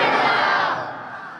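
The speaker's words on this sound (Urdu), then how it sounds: "بلند آواز سے کہہ دو سبحان اللہ۔" A large congregation at a Ramadan sermon in Pakistan loudly chants Subhan Allah together in one dense, roaring burst of many voices that swells, then fades slightly.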